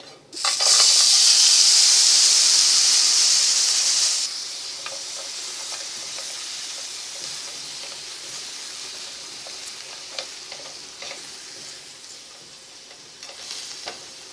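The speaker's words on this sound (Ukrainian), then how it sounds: "І на великому вогні підрум'янюємо креветки." Shrimp sear over high heat in a pan with red pepper, giving a loud, bright sizzle that hisses strongly for about four seconds, then settles into a softer steady frying crackle with occasional pops and stirring clicks.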